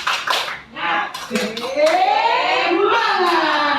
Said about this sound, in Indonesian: Tolong aja Bapak Ibu. Tepuk semangat.